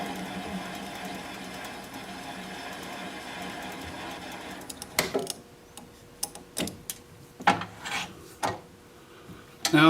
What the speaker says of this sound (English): I'm going to apply the bevel of the gouge against the bottom of the vase